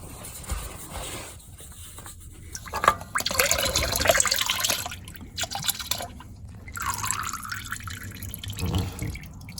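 Engine oil draining from a Lexus UX200 during a DIY oil change, a steady trickling and dripping of liquid into a pan with irregular splashes, close by and fairly loud.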